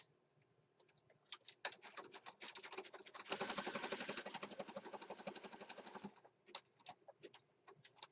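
A sewing machine stitches through a paper envelope for a junk journal, starting with a few sparse clicks, then running in a steady, fairly loud rapid burst for about three seconds before trailing off into scattered individual clicks.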